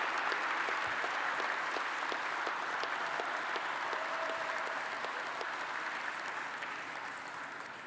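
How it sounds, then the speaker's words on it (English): Applause for young people at a New York City youth awards benefit: a sustained, even wash of many hands clapping in a large room, moderately distant, slowly fading toward the end. "Let's have a huge round of applause for these incredible young people"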